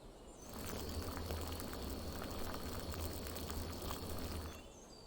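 Water comes to a boil for tea in the video game Rosewater, a dense, steady bubbling hiss with a low rumble that swells in, holds for several seconds and fades, with no talking.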